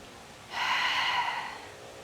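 A long, deep exhale during a yoga breathing exercise in a power vinyasa class, a steady airy rush rising sharply, holding for about a second, then tapering off, close and alone with no talk.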